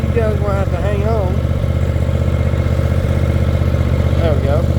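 Cub Cadet ZT1 zero-turn riding mower engine running steadily at a constant drone, loud and close, with a person talking over it.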